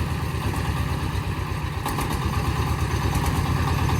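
A corn sheller machine, built to shell unhusked maize, runs steadily during a test, giving a continuous engine-like drone with faint rattling on top and no pauses or talk.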